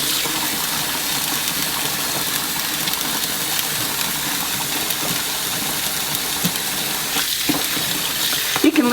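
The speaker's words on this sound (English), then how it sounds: "we'll go ahead and just fill this bowl right up. And any opportunity I can to rinse some of these hulls away is a good thing." A bowl being filled with water to rinse soybean hulls during tempeh making: a steady rushing stream from a tap, close and even throughout, with a few clunks near the end.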